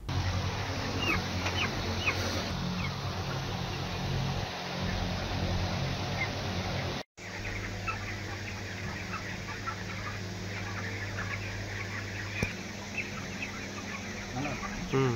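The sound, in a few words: three-legged chicken at a poultry farm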